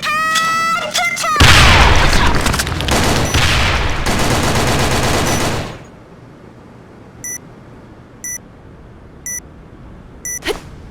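Grenade explosions and rapid gunfire in a team shooter game during a bomb-planting mission: a dense, loud burst of blasts and automatic fire for about four seconds, then a quieter stretch with a few short electronic beeps.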